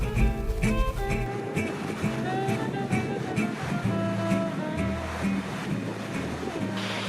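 Ocean surf on a Korean coast on a sunny day, a steady broad wash of breaking waves filling the background, continuous and fairly loud, with no talk over it.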